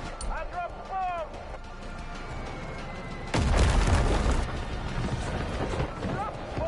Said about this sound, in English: I dropped the bomb!